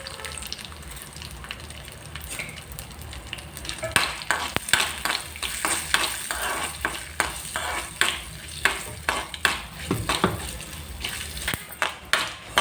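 Mustard seeds and spices sputter in hot oil for a peanut chutney tempering, a quiet sizzle building into rapid crackling pops and spatters, close up and loud.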